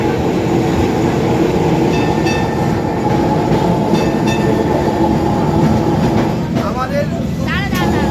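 Inside a moving city tram, a loud steady rolling rumble continues throughout, with metallic rail squeals rising near the end and people talking faintly in the car.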